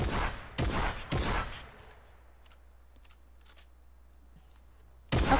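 Video game gunfire from Fortnite fires in three sharp, loud bursts, then fades into a faint hum with small clicks before another shot cracks at the end.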